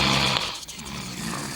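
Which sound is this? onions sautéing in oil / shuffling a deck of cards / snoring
snoring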